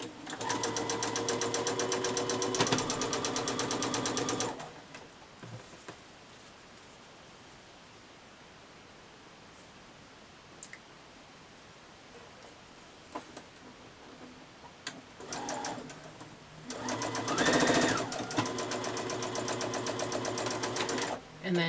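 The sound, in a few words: sewing machine sewing quilt block rows together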